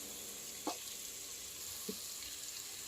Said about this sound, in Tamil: நல்லா சிம்மில் வச்சு நல்லா வதக்க வதக்க பிரியாணி டேஸ்ட்டாக இருக்கும்